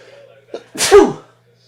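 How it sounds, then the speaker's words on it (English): A single loud sneeze up close, a brief sharp intake followed by an explosive burst, then quiet. "I need to sneeze. Desperately need to sneeze."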